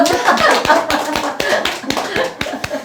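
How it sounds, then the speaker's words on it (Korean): A small audience at a sales coaching talk gives a short round of clapping, a quick burst of close, sharp handclaps in a loose rhythm, with a few voices mixed in. "박수 한번 쳐주세요."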